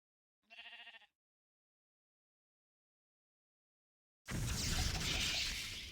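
A sheep in a video game lets out a single short bleat, followed by silence and then a burst of loud, noisy watery game ambience near the end.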